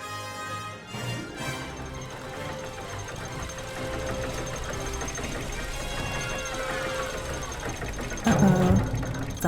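A malfunctioning engine in The Book of Unwritten Tales 2 gives off a steady mechanical knocking and rattling hum, mixed with background music, with a louder thump near the end.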